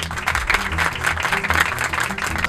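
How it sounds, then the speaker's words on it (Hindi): Audience applause welcoming a professor onto a quiz game show panel, a steady dense wash of clapping with no pauses across the whole stretch. "इस्तकबाल कीजिए अपनी पुरज़ोर तालियों में"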